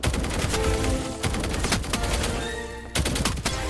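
Gunfire in the mobile shooter Operation Apocalypse: loud, rapid bursts of shots broken by two brief pauses, fired close by.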